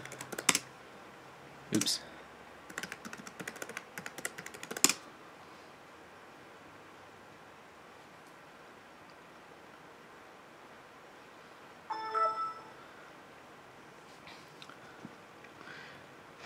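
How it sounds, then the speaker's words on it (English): Password being typed on a Dell laptop keyboard at a Windows 7 login screen: a few quick bursts of key clicks in the first five seconds, then a short cluster near twelve seconds, quiet between, with a brief spoken exclamation. "We're gonna type in our user password."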